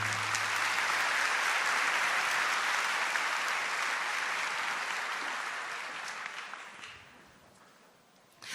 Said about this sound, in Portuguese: Aplauda também a Virgem Maria.